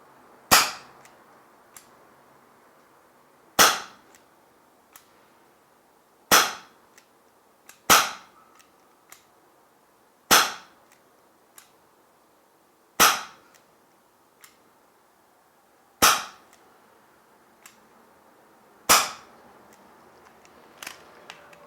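Umarex Ruger SuperHawk 8-inch 6mm airsoft revolver firing eight rounds over a chronograph: sharp, loud single snapping shots spaced a couple of seconds apart, with faint clicks between them in a quiet room.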